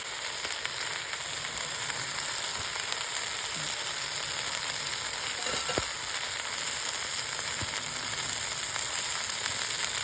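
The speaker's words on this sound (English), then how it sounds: "So my son here is going to add the onions and the garlic now." Onions and garlic frying with browned beef in a pot over a backyard firepit on a winter campout, a continuous steady sizzle with occasional faint knocks and scrapes.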